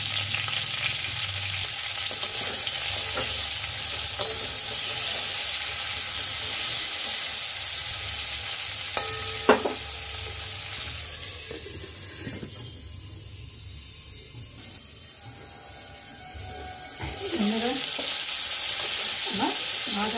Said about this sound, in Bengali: আমার ভাজা হয়ে গেছে, আলুগুলো প্রায় সিদ্ধ হয়ে গেছে ভেজে